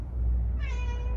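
Domestic cat meowing in a workshop, a single drawn-out meow rising then trailing off, close and clear over low room hum.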